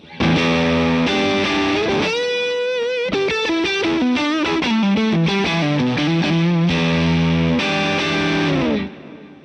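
Electric guitar through a Divided By 13 RSA23 amp with the master volume turned up, a driven, saturated tone playing a loud, sustained phrase of bends and held notes that runs steadily for about nine seconds, alone with no talk.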